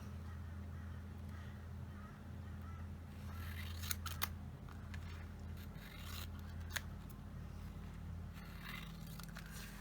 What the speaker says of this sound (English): And cut off the excess.